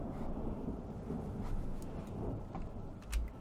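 Steady rain hisses through a battle in the strategy game Divide & Conquer, with a soft rumble of thunder underneath and a brief low thud near the end, fairly quiet throughout.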